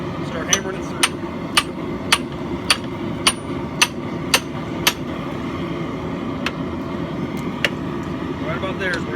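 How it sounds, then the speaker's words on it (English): A soft-faced copper mallet strikes a metal drift in a steady series of sharp, ringing taps, about a dozen blows, while forging a tomahawk from a farrier rasp, with a constant low hum underneath. "Just make sure you're hitting it with a soft-faced hammer. I got my trusty copper mallet here."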